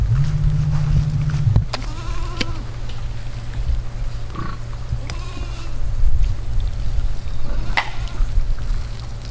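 Goats on a small farm bleat in several short calls over steady low background noise, with a brief shout partway through.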